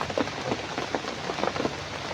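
Steady rain falls and patters on surfaces outdoors, a dense continuous hiss with scattered drop hits, close and fairly loud, with no talking.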